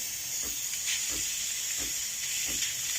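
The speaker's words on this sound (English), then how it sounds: "it's still not enough steam" A DeLonghi espresso machine with a faulty water pump gives off a weak, continuous hiss of steam, close and steady, with faint soft pulses beneath it.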